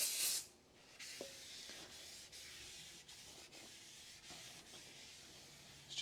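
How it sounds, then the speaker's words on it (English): Brake cleaner hisses from an aerosol can onto a new front brake disc of a 2015 Toyota RAV4 2.2 diesel, in one loud initial burst followed by steady wiping and rubbing sounds, with no talking. "I'm just going to use some brake cleaner just to give it a quick wipe over on the surface where the pads go."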